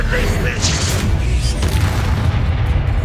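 A loud booming spell impact from the Descendo charm in the Hogwarts Legacy video game, a dense, sustained rumbling blast with crackling debris filling the whole short stretch.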